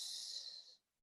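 A voice imitating snoring, a single drawn-out hissing, snorting breath that fades out after under a second, quiet and alone.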